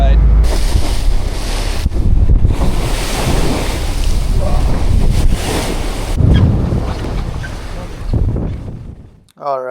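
Fishing party boat running on open winter water, with steady loud roaring hull and engine noise, water rush and wind buffeting throughout, easing slightly near the end.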